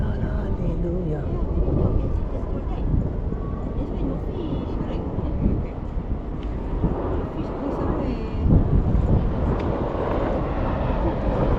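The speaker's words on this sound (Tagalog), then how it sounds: "Uy, aeroplano" An airplane flies over near Changi in Singapore, a loud low rumbling roar that holds steady for the whole stretch under outdoor wind noise, with voices chatting now and then.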